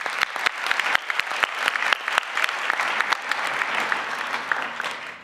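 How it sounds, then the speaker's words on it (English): Applause for Jackie Robinson Foundation scholars at an awards dinner, a big round of clapping from a large audience with many crisp individual claps standing out, strong throughout and tapering slightly at the end. "We should give them a big round of applause"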